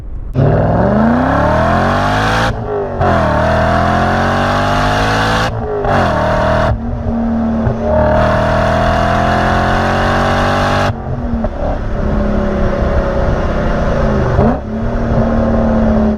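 A loud BMW sports car engine revs repeatedly, climbing in pitch through the gears with brief drops between shifts, close and powerful.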